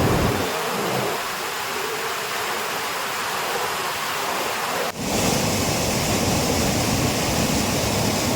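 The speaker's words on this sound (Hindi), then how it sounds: "मालन नदी दोनों किनारों पर बह रही है" The Malan river, swollen by heavy rain and overflowing both banks, roars as a loud, continuous broadband rush of water that shifts abruptly in tone partway through.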